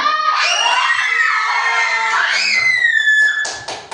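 A group of young children at an indoor gathering scream loudly together in a shrill, sustained burst that wavers and fades out near the end.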